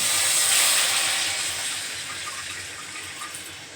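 Water hits a hot mustard-seed tempering in a pan and sets off a loud, rushing hiss that gradually eases off over a few seconds.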